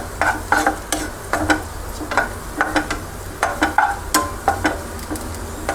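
Raisins roasting in plenty of ghee for winter dry fruit and flaxseed laddu, sizzling steadily while a spoon stirs and scrapes the pan in a repeated rhythm, close and fairly loud.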